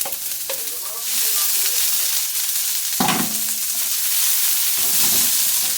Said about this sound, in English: Get a little bit of oil in the pan here. Coming in with them onions we chopped up earlier.